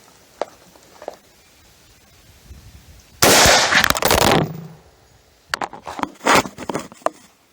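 Tavor rifle fired on an outdoor range at a 100-yard target: one loud, sharp report with a long ringing tail, then a cluster of several quicker cracks a second or two later, with quiet pauses between.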